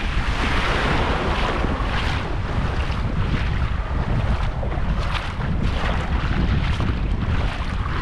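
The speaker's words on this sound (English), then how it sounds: "We're at the beach now." Ocean waves wash steadily onto a Gulf beach while strong wind buffets the microphone, producing a continuous loud roar of surf and gusts with no speech.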